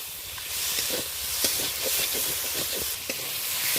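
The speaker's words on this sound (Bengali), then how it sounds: "মশলার সাথে মাছের মাথাটা হালকা করে নাড়াচাড়া করে নিচ্ছি।" Hilsa fish head is turned with spice paste in a hot pan, a steady hissing sizzle under soft, repeated stirring scrapes, close up, with no voices.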